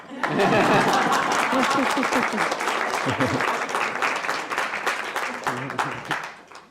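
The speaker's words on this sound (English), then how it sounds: "You can clap for Swami." A class audience claps for Swami right after a devotional song ends, a loud, dense round of applause with a few scattered chuckles and murmurs, fading away near the end.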